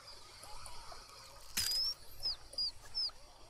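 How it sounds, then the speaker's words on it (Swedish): Newly hatched chick in The Sims 4 video game giving a few short high chirping peeps over soft background game ambience, with no talk. "Där kläcktes en liten kyckling."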